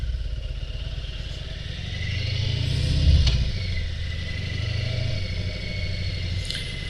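A 2022 Heritage Classic motorcycle engine pulls steadily through the gears, a rumbling low drone that swells to a peak midway and then settles into a steady cruising hum, with no talking.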